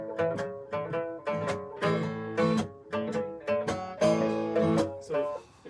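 Live blues from a duo, one part descending while the other rises, plays as steady rhythmic strummed or plucked phrases with rich sustained tones, fairly loud and close, with no talking over it.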